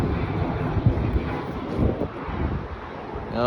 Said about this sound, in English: Wait for that airplane.